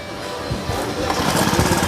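A used Honda engine runs just after starting, a loud close rough chugging idle that grows steadier and more forceful over two seconds.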